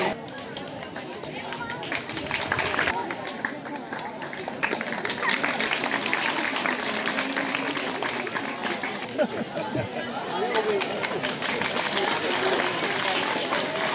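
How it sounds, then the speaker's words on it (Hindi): Dense applause from a crowd at a Teachers' Day gathering, continuous clapping and chatter filling the room, steady and loud throughout with voices mixed in. "तालियां बजा करके अभिनंदन करें।"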